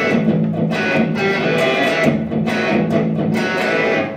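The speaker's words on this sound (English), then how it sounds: "That's the Pro Crunch." Electric guitar through a Roland GR-55 Pro Crunch preamp, crunchy overdriven tone, strummed chords ringing steadily, loud and close.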